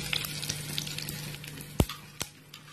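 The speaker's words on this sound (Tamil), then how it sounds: "அது கூடவே கொஞ்ச அளவுக்கு சீரகம் சேர்த்துக்கோங்க. தாளிப்புக்கு ஒரு 10 கருவேப்பிலை போட்டுடுங்க." Curry leaves and cumin seeds crackle in hot tempering oil for tomato thokku, a steady low sizzle broken by a couple of sharp pops near the end, close and without talk.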